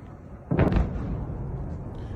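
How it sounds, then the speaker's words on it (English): A sudden distant blast from an attack on a Russian headquarters in Sevastopol booms out and rumbles on beneath steady background noise and wind. "We hear the explosions in this clip."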